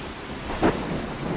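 Rainstorm in the Australian outback, with steady rain hiss throughout and a brief, close rumble of thunder rising out of it partway through.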